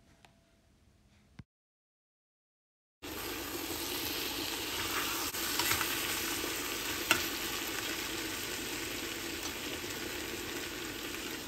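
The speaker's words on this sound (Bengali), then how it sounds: "ক্যাপসিকাম রান্না করার পর এতে চিংড়িগুলো দিয়ে ভালোভাবে মিশিয়ে আবারও 5" Prawns and capsicum frying in a pan, a dense, steady sizzle with occasional stirring clinks that starts abruptly after a brief quiet stretch, close and even, with no talking.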